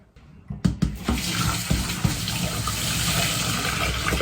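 Water gushing from a tap under heavy pressure, a strong steady rush that starts after a few brief knocks and clunks and keeps flowing loudly with no talking.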